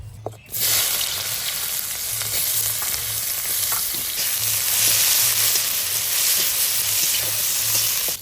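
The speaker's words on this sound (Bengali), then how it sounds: "ছাঁচি পেঁয়াজ, এই পেঁয়াজটা ভেজে নেব" Home-grown shallots fry in hot oil for a fish curry, giving a loud, continuous sizzle. Scattered stirring clicks and a low pulsing hum from the stove sit under it, with no talking.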